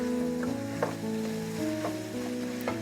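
Ground meat and onions sizzle in a single pot for taco pasta, a steady low hiss with a few soft stirring knocks and a faint tonal hum in the background.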